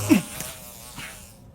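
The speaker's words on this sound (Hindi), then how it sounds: "क्या वो एक मक्खी थी?" A fly buzzes close by in a brief burst at the start, then a few fainter passing hums fade out, with no talk.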